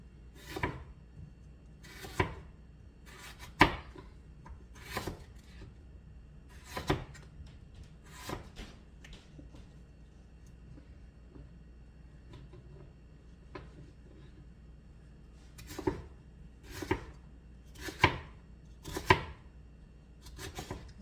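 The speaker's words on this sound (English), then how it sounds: "As you can see, I'm just dicing these potatoes up." A knife dices potatoes on a cutting board in a run of sharp chopping strikes, some spaced singly and others in quick clusters. The cuts are close and distinct over a quiet background, with no talking.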